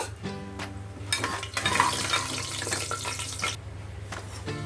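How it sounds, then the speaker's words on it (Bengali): Steady frying sizzle of cashews in a pan with bursts of crackle and occasional stirring scrapes, close and continuous, with no talking. "কাজুটাও ভালো করে আমি ভেজে নেব"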